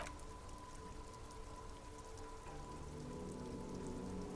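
Steady rain pouring in the detective game Disco Elysium, a continuous dense hiss with no voices.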